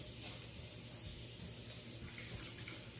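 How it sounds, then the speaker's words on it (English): Water runs from a kitchen tap while someone washes their hands, a steady close hiss and splash that continues unbroken without talk. "Let me wash my hands."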